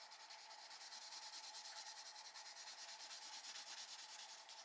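A coloured pencil rubs rapidly back and forth against paper on a desk, a close, steady scratchy rasp with a fast, even stroking rhythm and no talking.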